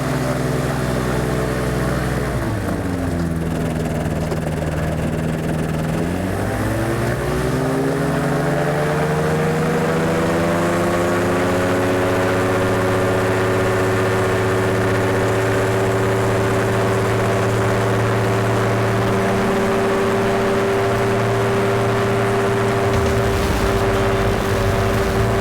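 Light aircraft engine revving up for takeoff over Hualien, a loud continuous drone whose pitch dips, then climbs and holds steady as power builds, with no talk.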